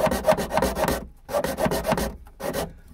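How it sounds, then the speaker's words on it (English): A small hacksaw cuts into the rear speaker mounting area of a 9th-generation Chevrolet Impala, giving close, steady back-and-forth rasping strokes in a quick rhythm with two brief pauses. "Doesn't take much with a little hacksaw."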